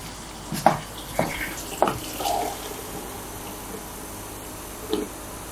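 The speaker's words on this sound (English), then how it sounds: "All right, she gonna pour water on this" Water is poured over food in a kitchen, heard as a few short splashes and a brief trickling run, then a final small splash against quiet background noise.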